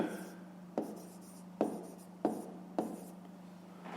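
Pen or pencil writing out a fifth-grade maths exercise: a handful of short, scratchy strokes at close range, spaced apart, with no talking.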